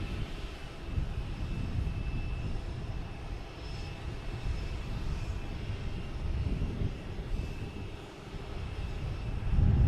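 An Aer Lingus airliner arrives at Boston Logan Airport, its steady broadband engine roar holding for the full stretch at a moderate distance and swelling slightly near the end, with no talk over it.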